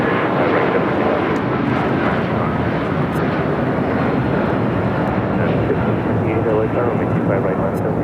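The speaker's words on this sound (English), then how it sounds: "This is United Airlines 1260 taking off to Denver on the 757-300" A United Airlines Boeing 757-300 takes off at LAX, its engines a loud, sustained broadband roar that holds steady throughout at close range.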